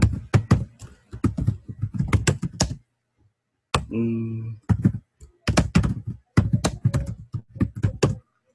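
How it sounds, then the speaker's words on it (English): Rapid clattering keystrokes on a keyboard come in dense bursts with short pauses, close and loud, with a brief humming tone in the middle. "Sorry if the typing's super loud."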